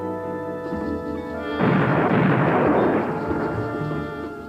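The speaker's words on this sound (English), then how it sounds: "On February 15, the Maine was blown up, killing 260 American sailors." A deep, roaring blast representing the explosion of the battleship Maine in Havana harbor, bursting in abruptly over a sustained tonal music bed and rumbling loudly for about two seconds before easing off.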